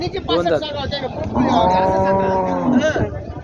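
Bulls low loudly at a busy cattle market in Parbhani, one long drawn-out moo rising over a murmur of crowd noise.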